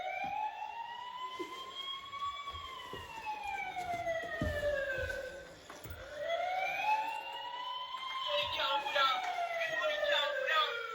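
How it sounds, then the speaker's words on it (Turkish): A wailing siren sweeps up and down repeatedly, a toy ambulance sounding close by, with faint voices and handling noises beneath. "Oo, ışıklı ambulans hem de. Sesli çıkartıyor arkadaşlar."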